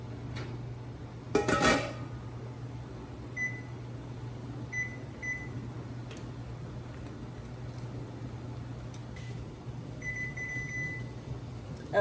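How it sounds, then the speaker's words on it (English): Timer beeps sound in a home kitchen during water-bath canning of wild blackberry jelly: a few short, thin beep pairs recur over a steady appliance hum, with a louder clatter near the start and no talk. "The timer has gone off."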